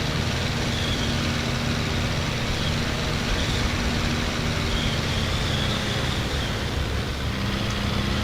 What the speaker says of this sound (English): you'll hear the engine note change as we do it